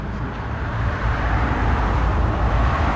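Pontiac GTO driving off at a winter car meet, a loud rumbling low engine roar building steadily over roadside traffic noise, close by and continuous.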